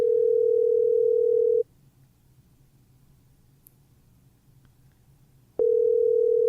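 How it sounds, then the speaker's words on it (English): Ringback tone of an outgoing phone call going unanswered: two long, steady electronic tones, one at the start and one at the end, separated by about four seconds of quiet line hiss. "Yep, calling him right now."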